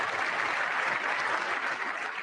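Sustained applause from a large audience at a State of the Union address fills the clip, a steady dense wash of clapping with no pauses, moderately distant and without voices.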